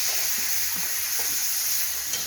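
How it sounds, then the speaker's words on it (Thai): Bacon sizzles steadily in an oiled pan while it is stirred, with soft scraping strokes at an even pace under the constant frying hiss, close up and with no talk. "สักพักนึงอะเบคอนมันจะทำการคลายน้ำมันออกมาเองนะ"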